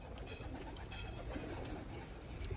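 Pigeons or doves coo steadily outdoors while hungry birds and cats are being fed, a soft continuous murmur of calls close by with constant background hiss and no talking.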